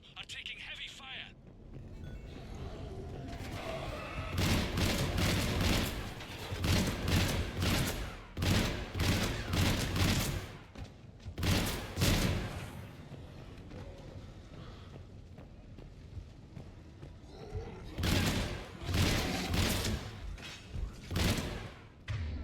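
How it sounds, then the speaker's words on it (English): Heavy gunfire in the Mass Effect 3 video game, dense bursts of shots and booming impacts coming in waves with short lulls, loud and close, with a voice talking over parts of it. "Foxtrot and Bravo are taking heavy fire."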